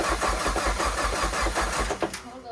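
A Nissan S13 with a CA18 engine cranks over in a steady, rapid rhythm of starter pulses, loud and close, then fires into life near the end as a voice speaks over it.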